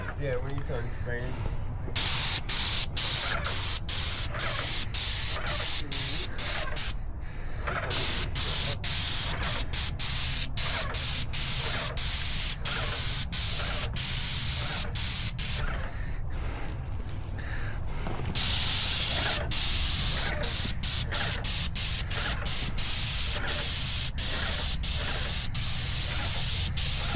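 Paint sprayer hissing steadily while coating a house exterior during a large repaint job, a continuous loud spray broken by short pauses, with vertical clicks and voices talking underneath.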